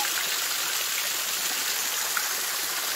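A small woodland waterfall in a wooded valley sends up a steady, hissing splash of water, even and continuous, heard close at moderate volume with no talk.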